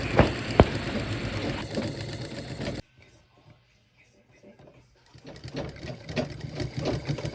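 Sewing machine stitching a prince-cut blouse runs in a loud, steady whirring burst, stops abruptly for a couple of seconds of near silence, then starts up again in a second rattling run.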